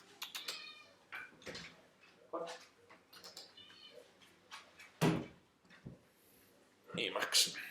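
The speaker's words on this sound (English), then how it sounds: "I'll just let this cat out of here." A cat meows several times as a door is opened to let it out, its short cries scattered among faint indoor noises and a voice.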